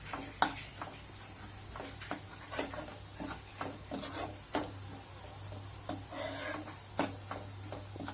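Onion and masala for a prawn dish sautéing in oil in a pan, a soft continuous sizzle broken by frequent light scraping taps of a spoon stirring, all fairly quiet.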